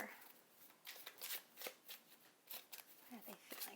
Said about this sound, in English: I'm going to cut the deck. Beautiful shuffle.